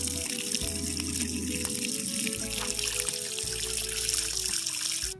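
Water trickles and splashes steadily from a garden tap or hose as dirty hands are rinsed outdoors, a continuous close pouring sound with no talk.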